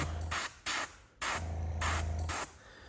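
Short bursts of an airbrush spraying paint onto a squarebill crankbait, five close hissing puffs of varying length with a steady low compressor hum running beneath.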